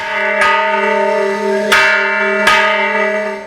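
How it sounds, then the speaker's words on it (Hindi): A giant bell at a Hanuman temple rings with three loud, close strikes, each leaving a long, shimmering metallic resonance that carries over into the next. "कुछ मंदिर में विशालकाय घंटी को बजाते हुए आगे बढ़ते हुए नजर आते हैं।"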